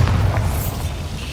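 In Hogwarts Legacy, a Bombarda spell goes off as one deep, booming explosion with a rumbling tail, brief and loud with nothing else in the background.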